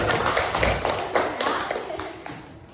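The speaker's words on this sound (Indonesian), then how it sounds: "Tepuk tangan dulu untuk Melati" Children in a classroom clap for a pupil, a brief round of quick overlapping claps that fades over a few seconds, loud and close.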